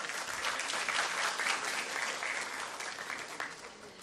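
Clapping from a graduation convocation audience honouring management diploma students, a dense, even wash of claps that swells early and eases slightly toward the end.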